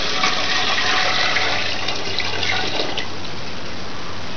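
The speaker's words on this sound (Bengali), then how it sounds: "জল এখানে ঢেলে দিচ্ছি।" About 1.5 litres of water pours steadily into a cooking pot for mutton yakhni pulao, a loud, even gush that runs throughout without pause.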